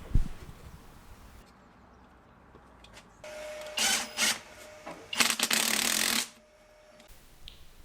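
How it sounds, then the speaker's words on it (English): Jubilee clips are tightened on a car exhaust airbox with a ratcheting tool, giving several short bursts of clicking, close and fairly loud, with quiet pauses between them. "I used some Jubilee clips to tighten everything back up"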